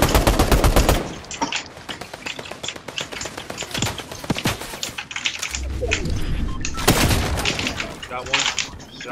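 Gunfire in the Fortnite video game during a trio squads match, sharp loud shot bursts and rapid firing scattered throughout, with players talking over it and keyboard tapping.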